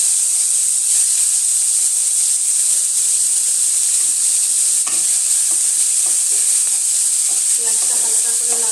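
Chopped onions fry in oil with a bay leaf, giving a loud, steady, close hissing sizzle with occasional soft stirring knocks throughout.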